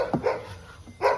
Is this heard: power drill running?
no